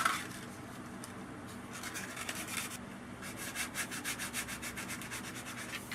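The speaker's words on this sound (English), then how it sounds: "Maybe just a little bit more sanding." Sandpaper rubs back and forth over a spiral pipe stem, a faint close scratching that turns into a quicker rhythmic series of short strokes near the end.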